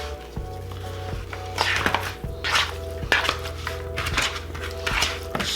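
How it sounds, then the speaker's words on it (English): Chicken wings are tossed with SPG seasoning in a bowl, giving repeated clattering knocks and scrapes against the bowl over a low steady hum, loud and close. "Just gonna get it in here, mix it up, make sure they're well coated."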